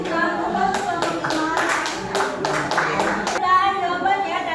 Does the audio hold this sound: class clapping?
yes